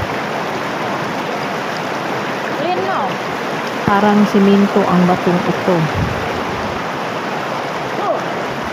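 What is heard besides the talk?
flowing river water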